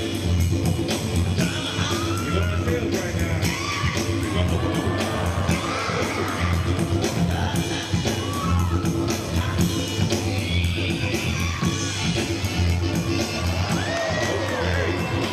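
A crowd at a 2008 bboy breakdance event cheers, whoops and shouts continuously over a thumping bass-heavy beat, with loud, overlapping voices throughout.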